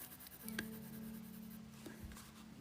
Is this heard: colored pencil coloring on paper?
yes